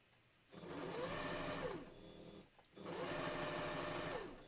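A sewing machine stitches along a fabric edge for a Halloween candy corn pillow, running in two close, fairly quiet bursts of rapid mechanical whirring separated by a brief pause.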